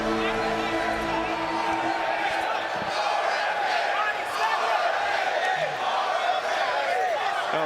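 A karate combat event crowd roars and cheers steadily around the arena, a loud continuous wash of voices and whoops while an announcer talks over it.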